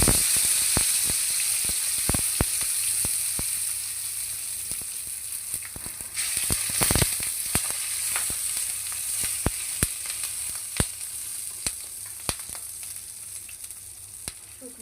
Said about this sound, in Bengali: এখানে আমি সরিষার তেল দিব।